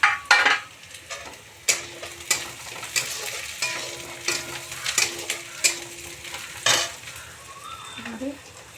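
Chopped green chillies go into a hot frying pan with onions, a steady sizzle of frying under repeated sharp clinks and scrapes of a spatula stirring against the metal pan.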